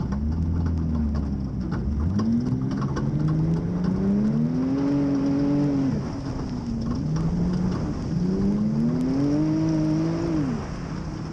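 Off-road racing buggies and Can-Am side-by-sides roar at the 2018 St George 399 desert race. Loud, continuous engine noise rises and falls in pitch through repeated revs and gear changes, close by, with no voices.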